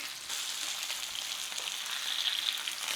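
A steak sizzles steadily in a hot pan, a dense, even searing hiss that holds alone and grows slightly louder toward the end.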